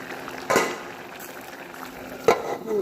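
Jackfruit seed curry with goraka and coconut milk bubbling under a lid in a covered pot, a low steady simmer with soft gurgles and two brief louder knocks or bubbles, no talk.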